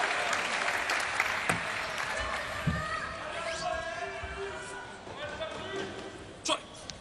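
A European crowd at a men's singles table tennis match in Montpellier breaks into applause that swells and then fades, with a commentator talking over it and a few sharp knocks near the end.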